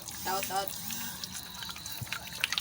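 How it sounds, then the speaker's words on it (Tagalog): Water splashing and running while mud is rinsed off freshly harvested food by hand, light intermittent sloshing under a voice speaking nearby. "ginagawa ni Bunso, nililinis niya. Yan. Tinatanggal yung putik. Pagkatapos, ibababad siya."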